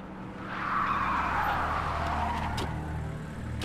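A car in the Splinter Cell: Conviction video game pulls up and skids to a halt, engine roar building with a long tire screech that swells and then fades, loud and close.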